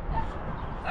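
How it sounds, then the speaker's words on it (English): A pack of stray dogs barks from up in a quarry near a Roman temple site, a continuous overlapping chorus of yaps and barks heard at a distance, with some voice mixed in. "they're barking at me from all the way up here at the top of the hill"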